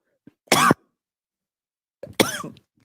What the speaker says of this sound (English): going to have a cough attack mid-thought here